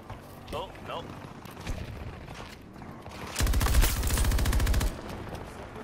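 Rapid automatic gunfire in Battlefield 2042 from a PKP machine gun, a loud dense burst of shots lasting over a second, following quieter scattered battle noise with people talking over it.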